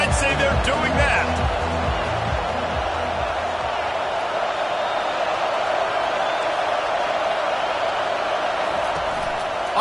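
Crowd cheering in a Madden 23 football stadium, a loud, steady roar of fans that holds evenly throughout, with brief game sounds at the start.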